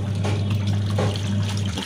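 Water sloshes and splashes steadily as clothes are washed and rinsed by hand at home, a close, continuous wet churning with a low hum underneath.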